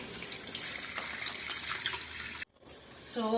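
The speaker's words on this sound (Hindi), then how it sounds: "ये रहा हमारा पानी, हम इसको इसके अंदर डालेंगे" Water poured into a folding mini washing machine makes a steady, close splashing rush for over two seconds, then stops briefly before a fresh gush of water starts.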